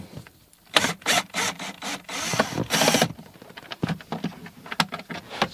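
Screws are removed during a cabin filter replacement on a 2008 Nissan Versa, heard as a close series of irregular clicks, scrapes and ratcheting taps of varying loudness.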